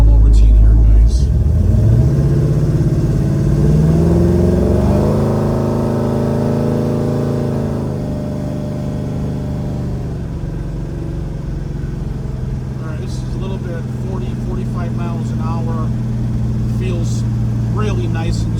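A 1970 Chevrolet Chevelle custom muscle car with a fuel-injected big block 454 V8 cruises down the road, its deep close-up rumble climbing in pitch as it accelerates, then settling into a steady, smooth drone.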